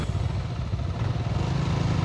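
Two maxi scooters, a Yamaha Aerox and a Honda Click 160 in the 150-160cc class, drag racing side by side, their engines droning steadily and fairly loud with a rough, buzzing motor tone and no talk.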